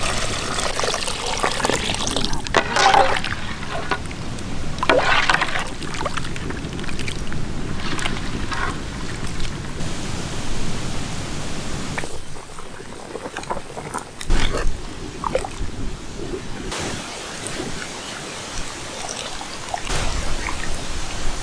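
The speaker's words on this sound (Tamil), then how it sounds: "தேவையான அளவு தண்ணி ஊற்றிவிடுமுக்கா." Water is poured into a simmering pot of village-style fighting-chicken soup cooked with masala, a steady close splashing and trickling that runs for about twenty seconds with shifting intensity and outdoor background noise.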